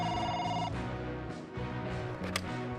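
A telephone rings with a bright, electronic trill, one burst followed by a second ring after a brief pause, loud and close indoors.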